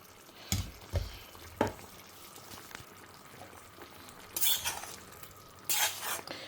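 Ground paste goes into frying brinjal for a hotel-style kara kuzhambu and gets stirred, faint spoon knocks and scrapes against the pan over a low sizzle, with a few louder stirring rustles near the end.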